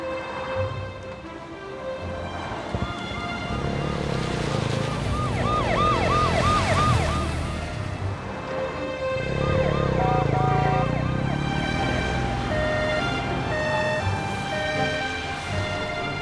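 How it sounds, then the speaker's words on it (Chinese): An ambulance siren wails continuously with repeated rising and falling cycles, loud and close over steady road traffic noise, while the vehicle heads to a hospital under a police escort. "有一部车牌号为谭 A648KK 的救护车要前往人民医院"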